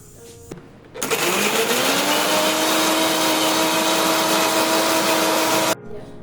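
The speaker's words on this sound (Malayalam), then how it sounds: "മുളകും തക്കാളിയും കൂടി ഒന്ന് മിക്സിയിൽ അടിച്ചെടുക്കണം" A kitchen mixer grinder blending cooked tomatoes and chillies whirs loudly and steadily after a brief start, its motor whine holding constant for several seconds before cutting off.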